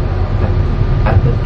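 Steady low rumble inside a moving train carriage, a continuous broadband drone with faint rattles and no clear voices over the short stretch.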